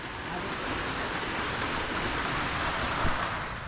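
Steady rain hissing in a dense, even wash of sound, with no breaks, fairly loud and close.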